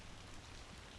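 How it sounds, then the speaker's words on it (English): Rain rattling and thumping against window panes, a steady dense wash of drops with no pauses, fairly soft and close, no voices. "Rains rattles and thumps against the window panes."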